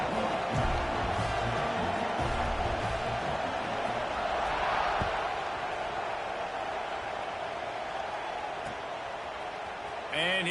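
A football stadium crowd at a Washington versus Penn State game just before kickoff, a broad sustained roar of many voices with cheering swells, loud and continuous, with a commentator talking over it.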